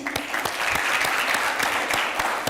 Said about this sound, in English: Can we also just clap for yourselves, please?